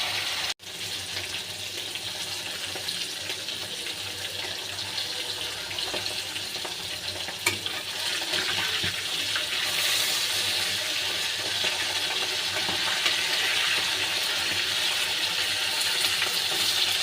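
Fish sizzling steadily in hot oil in a frying pan as they brown, a continuous close crackle with occasional stirring and no voices.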